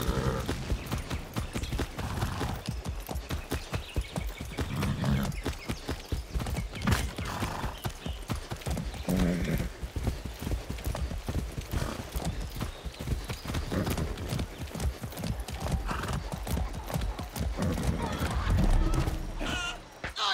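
Horse hooves clip-clop in a rapid, steady gallop throughout Far Cry 6 gameplay, with occasional neighs, running close and loud beneath a speaking voice.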